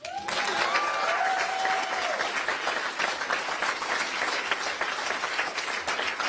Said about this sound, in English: Can we give another round of applause, please, for Zoe Lofgren